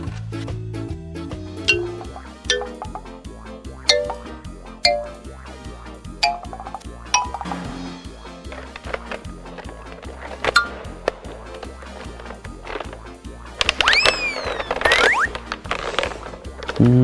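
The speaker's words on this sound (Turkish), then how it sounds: "Hadi biraz mermi ekleyelim. Tam 12 mermi alıyor." Foam darts click and clink one by one into a Nerf blaster magazine that holds 12 rounds, making a series of small, close plastic taps and snaps in a quiet room.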